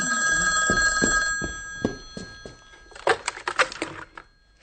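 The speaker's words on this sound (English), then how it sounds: "The phone rings in the house." A telephone rings in a house with a steady electronic trill, then stops; a few clicks follow and a louder clatter of handling noise closes the passage.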